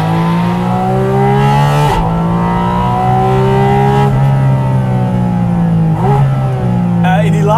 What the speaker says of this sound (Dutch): Dat is 6000, hè? Dan heb je nog 3000 te gaan, want je kunt tot 9000 doorjanken.